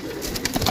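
A pigeon gives a brief, low cooing call at close range, repeated in soft pulses over steady background noise.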